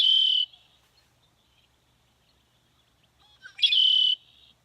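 Two short bursts of recorded bird song, one at the start and one near the end, play from a backyard bird song book with press buttons, heard outdoors over near silence.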